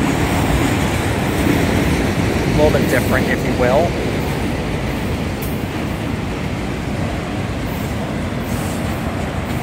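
A slow Union Pacific autorack freight train, led by locomotive 7383, rolls past at the Power Line Trail with a steady loud rumble and brief wheel squeals, while someone talks over it.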